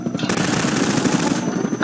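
Rapid automatic machine gun fire in the video game Garry's Mod, a loud continuous burst of close shots with a faint voice underneath.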